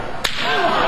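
A sharp slap in a wrestling match cracks once, followed by a ringing echo that lingers in a large reverberant arena.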